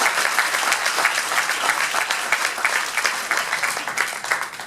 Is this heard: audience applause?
yes